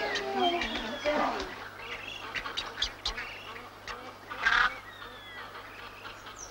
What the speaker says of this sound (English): a magnificent man-made lagoon which supports a large population of white ibis and many other species of water birds